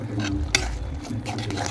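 Vinegar and tomato sauce are stirred into egg Manchurian in a pan, a soft scraping and wet mixing with a sharp clink of the spoon near the middle, over a low steady background.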